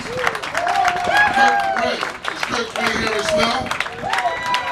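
An audience at a Philadelphia Music Walk of Fame ceremony gives a dense round of applause that runs under a speaker's amplified voice and cheering.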